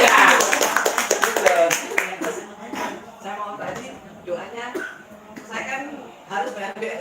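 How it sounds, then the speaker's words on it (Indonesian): Audience clapping at a testimonial talk, a short loud burst of hand claps at the start that thins out, followed by talking and scattered murmurs from the room. "Tepuk tangan dong."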